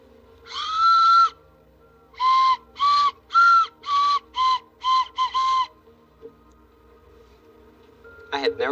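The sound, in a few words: hammer-shaped whistle blown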